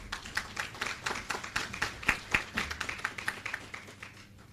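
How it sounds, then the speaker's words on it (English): Members applauding at the 45th annual general meeting of First Regional Co-operative Credit Union, a fairly steady run of overlapping hand claps in a room, moderately loud, easing slightly at the end. "I believe we can give ourselves a round of applause for that."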